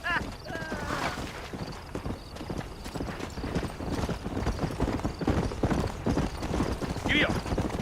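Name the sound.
horse galloping, hooves clip-clopping, in video game Red Dead Redemption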